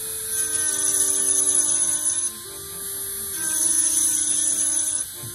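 A rotary carving tool spins a stone cleaning bit at medium speed, a thin high whine with a steady hum underneath, easing briefly halfway through and then rising again, with no talking.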